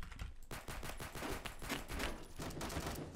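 Rapid bursts of gunfire in a Roblox Phantom Forces match, dense and continuous close shots with a slight dip in the middle before the firing resumes.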